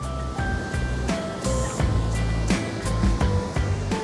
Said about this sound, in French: je vous ai amené devant le saut du Capellan, qui est notre magnifique cascade